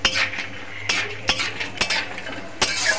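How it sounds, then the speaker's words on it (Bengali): Peanuts frying in oil in a pan, stirred with a utensil, giving a steady soft sizzle broken by repeated sharp scraping clinks against the pan, close and fairly loud with no talking. "বাদামগুলোকে নেড়ে ছেড়ে ভেজে নেব।"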